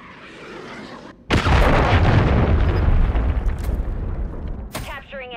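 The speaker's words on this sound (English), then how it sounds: "Friendly cruise missile approaching target." A cruise missile strike explodes in Call of Duty Modern Warfare III, a sudden loud boom followed by a long rumbling roar and debris, with a brief voice call near the end.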